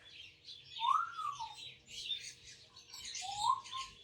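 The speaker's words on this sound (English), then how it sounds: "I've got like a lot of birds in my garden this morning." Birds chirp and sing outdoors, with two clear rising whistled calls standing out over a busy background of twittering.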